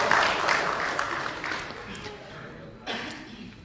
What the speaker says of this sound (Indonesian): Tepuk tangan dulu buat Ibu Ega